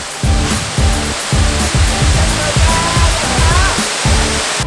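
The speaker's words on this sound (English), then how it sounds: "So the Silver Waterfall is located right on the main street that leads out of Sapa town" Silver Waterfall near Sapa, Vietnam, roars as a loud, steady rush of falling water that fills the whole scene with dense, unbroken noise.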